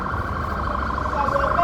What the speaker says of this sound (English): Why the sirens?